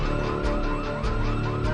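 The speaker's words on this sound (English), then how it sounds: "We ran into our first house alarm" A house alarm blares in the Project Zomboid video game, a loud, continuous electronic wail with a repeating pulsing rise and fall that fills the whole moment without any talk.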